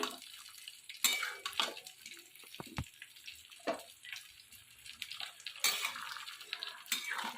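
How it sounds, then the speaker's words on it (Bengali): Poppy seed paste being stirred into bottle gourd in a pan gives a close, faint run of wet scraping, clinks of a spoon against the pan and squelching, in irregular bursts with no talking. "বাটা পোস্ত বাটাটা আমি এবারে দিয়ে দিলাম দিয়ে ভালো করে আমি এটা ঘেটে নেবো"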